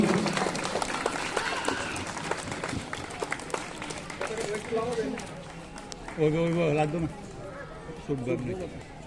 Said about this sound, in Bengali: সবাইকে বলবো জোরে করতালি দিয়ে